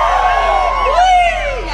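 A concert crowd lets out a loud, sweeping Mexican grito at a show, rising and falling cries overlapping over a brief, close burst of cheering.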